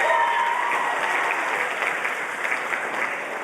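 Steady, dense audience applause fills an afterschool music program showcase, a continuous crowd of clapping hands at even loudness with faint tones in the background early on.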